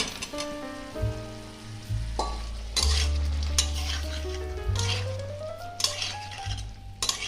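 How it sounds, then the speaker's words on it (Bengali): Fried egg and potato being stir-fried with spices and Kashmiri chilli powder in one pot, a spoon repeatedly scraping and clinking against the metal pan over a low sizzle, with ringing metallic tones. "এবার পুরোটা ভালো করে কষতে হবে।"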